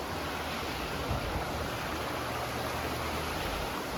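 Spearfish Creek flows past the D.C. Booth Historic National Fish Hatchery in Spearfish, South Dakota, as a steady, even rush of water with no pauses.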